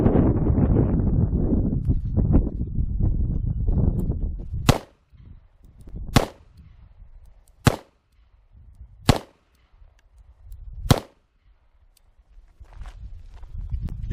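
Five sharp, loud gunshots from a Kimber K6s five-shot revolver firing Fiocchi .357 Magnum rounds, spaced about one and a half seconds apart outdoors at a range, after a stretch of wind noise.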